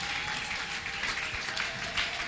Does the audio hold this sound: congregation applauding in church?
yes